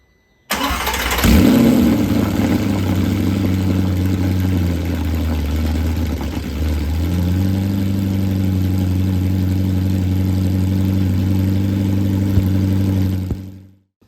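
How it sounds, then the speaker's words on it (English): An Audi R8's engine cranks and fires after rear oil-leak and clutch-line repair work, then settles into a steady, loud idle that holds for about twelve seconds before cutting off. "So next step is to actually just do a test start of the car."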